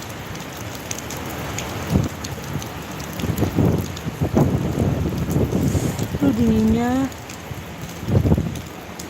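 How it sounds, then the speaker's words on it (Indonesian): Heavy rain with strong wind pours steadily on a stormy afternoon in Papua, a dense continuous hiss with gusty swells, while a person speaks briefly over it and a short rising tonal sound cuts through near the end. "Hujan, angin kencang."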